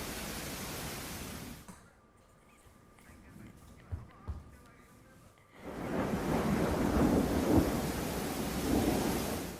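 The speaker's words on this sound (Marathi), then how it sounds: "गेल्या 8 दिवसांपासून सतत वादळी वाऱ्यासह अवकाळी पाऊस होतोय" Unseasonal thunderstorm with rain and strong wind in Jalna district, heavy rain noise and rumbling thunder that drop away briefly before returning loud and continuous, with faint background voices.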